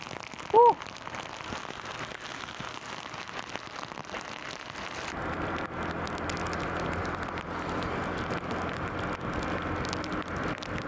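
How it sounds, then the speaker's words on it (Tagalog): Steady rain pouring down, a dense hiss that thickens after a brief sharp chirp near the start; no talking. "Ang lakas ng ulan talaga oh."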